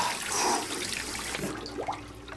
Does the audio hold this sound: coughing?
no